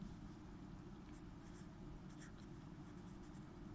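Marker or chalk writing out a physics problem solution on a classroom board, with faint scattered strokes and squeaks over a steady low background hum, no voice.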